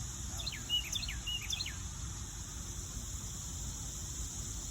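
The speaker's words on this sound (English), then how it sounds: "Isn't that a pretty bird song?" A bird sings short repeated phrases of bright chirping notes, moderately distant, over a steady background hiss and low rumble; no voices.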